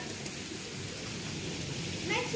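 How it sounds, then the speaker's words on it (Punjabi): Heavy rain falls during a downpour, a steady even hiss filling the whole clip at moderate volume, with a faint voice briefly at the end. "ਮੀਂਹ ਬਹੁਤ ਜ਼ਿਆਦਾ ਵਾ ਬਹੁਤ ਜ਼ਿਆਦਾ ਪਾਣੀ ਖਲੋ ਗਿਆ ਵਾ"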